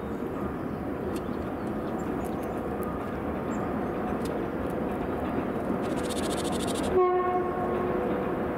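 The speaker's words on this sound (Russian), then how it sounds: "Поезда шумят." Trains rumble steadily in the background of a wooded park where a squirrel is being fed, a continuous rail noise with a brief horn-like tonal blast near the end.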